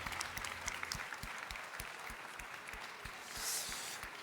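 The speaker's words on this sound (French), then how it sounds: "Applaudissements et c'est terminé." Steady applause from a crowd at a national chefs' cooking competition final, many hands clapping continuously at moderate volume, with a slight swell near the end.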